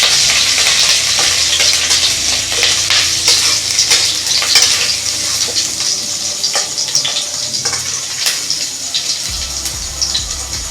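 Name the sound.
chopped ginger and garlic frying in hot oil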